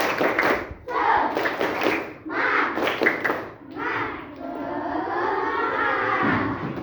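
Second graders in an Islamic religious education class do the semangat clap chant, with several sharp clusters of group claps and shouted chanting up front, then sustained excited children's voices trailing on.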